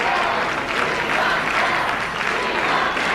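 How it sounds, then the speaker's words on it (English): An election night crowd at a 1986 rally cheers and applauds loudly and continuously, a dense roar of clapping and voices filling the whole moment. "once again, the cheer goes up from the crowd"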